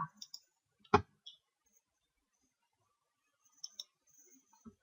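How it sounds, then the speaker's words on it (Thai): A single sharp mouse click sounds clearly in a quiet room, surrounded by a few fainter ticks and small clicks. "จากนั้นคลิกรันสไปค่ะ"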